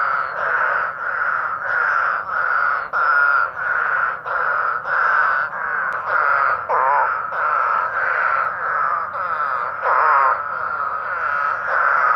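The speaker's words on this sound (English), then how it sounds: "I'm surrounded by spadefoot toads" Spadefoot toads in a flooded cornfield by the Ohio River at Big Bend in early spring, calling in a steady chorus of loud, regularly repeated nasal bleats, close and continuous without talk.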